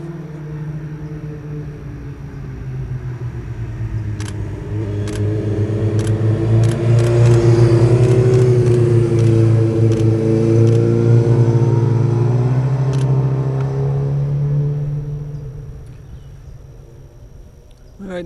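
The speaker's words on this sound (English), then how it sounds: "Listen to the sounds of occasional motorcycles coming through the Dragon." Motorcycle engines on a winding mountain road known as the Dragon swell from a distance, rumble loudly past over several seconds, then fade away, with faint birdsong in the background.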